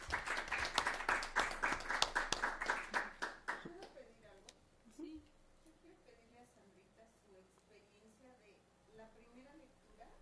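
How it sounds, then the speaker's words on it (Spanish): Audience applause at an academic interdisciplinary research and teaching conference, dense rhythmic clapping for about four seconds that quickly dies away into quiet room noise with faint murmuring voices. "Un aplauso"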